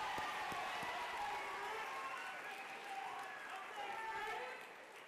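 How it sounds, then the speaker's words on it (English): Audience at a STEM school graduation clapping for a graduate, a dense burst of applause mixed with crowd voices that thins out toward the end. "Could we clap it up for Donnie one more time, y'all?"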